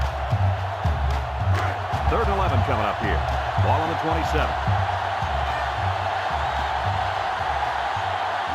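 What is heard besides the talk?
stadium crowd cheering in NCAA Football 2005 video game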